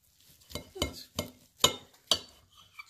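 Cutlery strikes a plate while turkey meatloaf topped with bacon is cut, giving five or six sharp clinks spaced unevenly over a quiet background.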